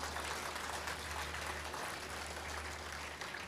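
An audience applauds at a talk, a dense, steady wash of many hands clapping that carries on without a break for a few seconds, heard from within the hall over a low hum.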